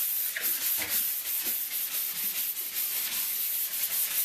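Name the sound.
sanding sponge scuffing a painted wall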